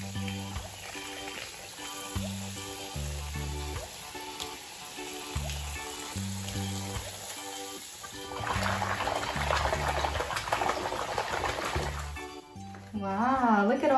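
Water pours into a baby bath in a steady, rushing stream for a few seconds midway, under continuous background music.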